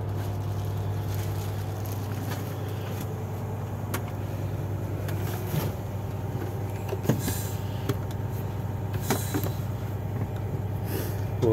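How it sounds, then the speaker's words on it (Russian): A Dongfeng or Sitrak truck engine idles steadily while warming up at about 1200 rpm, a low, even, continuous hum heard from inside with faint clicks and no talking. "прогревает мотор."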